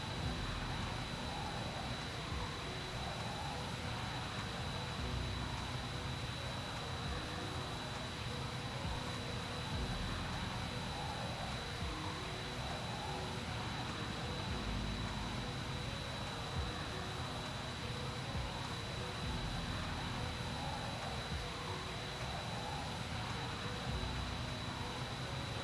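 A steady, droning aircraft engine hums continuously in Arma 3 with flaps set, a constant broadband roar with a faint whine, unchanging and moderately quiet throughout.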